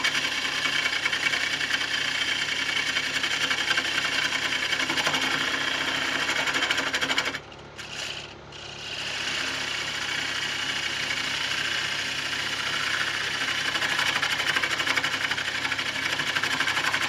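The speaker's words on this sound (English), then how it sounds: "Yeah, I think it's bouncing on the black wood. There's a bump just there." Steady whirr of a wood lathe turning a bocote wood bowl, the tool chattering and bouncing on a bump in the dark wood, loud and continuous with a brief dip midway.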